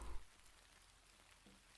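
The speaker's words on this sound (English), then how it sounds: "The rain creates a curtain around the tree." Steady rain falls as a game sound effect, a soft continuous hiss of drops spread evenly with no voices, faint and even throughout after a brief thump at the start.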